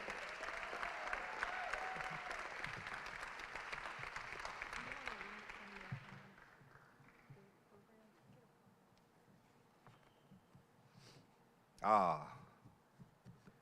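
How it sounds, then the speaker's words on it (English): Applause at the Wendell Scott Foundation Legacy Gala 2024 fills the hall for Jalen Edmonds, a dense roar that fades after about six seconds to quiet room tone, then a short loud burst near the end. "Ladies and gentlemen, give Jalen Edmonds a big round of applause."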